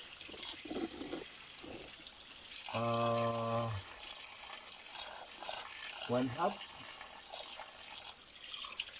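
Water flowing from a water tank runs steadily in the background, like an outdoor flow, while someone briefly says a few words and another voice hums.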